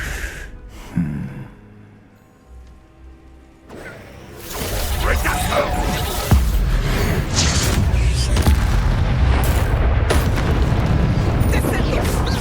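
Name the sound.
Bombarda spell explosions in Hogwarts Legacy video game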